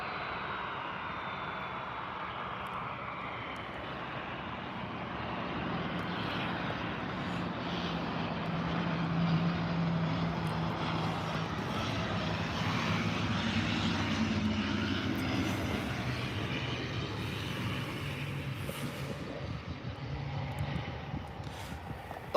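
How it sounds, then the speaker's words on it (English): An ATR 72-600 turboprop airliner arriving at Birmingham airport, a steady propeller and engine drone that swells slowly and holds for a long stretch, heard from a distance with no talk. "This is ATR 72600 coming in."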